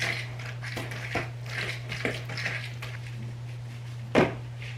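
Apple cinnamon oatmeal cookie ingredients are mixed in a bowl, with soft repeated scraping and clinking of a utensil against the bowl and a low steady hum underneath. One sharper knock comes near the end.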